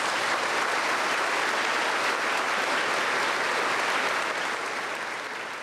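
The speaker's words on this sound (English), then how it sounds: "A round of applause for our guests tonight." Sustained audience applause fills a high school graduation ceremony, a dense, steady wash of clapping from a large crowd that holds strong and tapers slightly at the end, with no talk over it.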